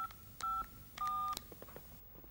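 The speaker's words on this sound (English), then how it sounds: "I dial in your number" Phone keypad tones dial a number: a few short steady beeps, each a key press, set apart by brief gaps and faint handling clicks, close and clear with no talking.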